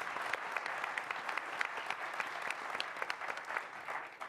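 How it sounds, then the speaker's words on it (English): A crowd at a Colorado Springs mayoral debate applauds an opening statement, a soft, even wash of many hands clapping heard from a distance, sustained without a break. "let's applaud the opening statement."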